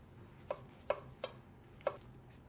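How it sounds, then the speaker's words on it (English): A knife cuts tomatoes into large cubes on a board, four sharp, distinct chops spaced unevenly across a quiet kitchen background. "I'm gonna just cut the tomatoes pretty big, cubic"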